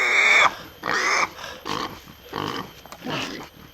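A pig squeals loudly in repeated harsh shrieks, five or six bursts separated by short gaps, near and dominant, with the first cries the strongest.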